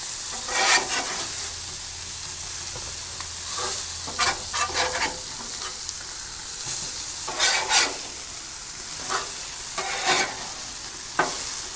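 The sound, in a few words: pork chops sizzling on Blackstone griddle, basted with butter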